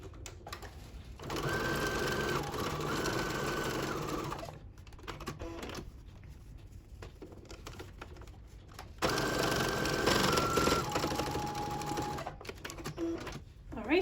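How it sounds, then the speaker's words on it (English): Sewing machine stitching bias binding onto a fabric face mask with filter pocket, running in two steady bursts of a few seconds each, with a quieter pause between them. "you sew it again from the other side"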